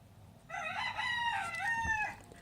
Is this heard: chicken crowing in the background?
yes